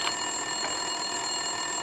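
Telephone ringing inside an office in the Max Payne 2 video game, a steady electronic trill holding over a constant background hum, no voices.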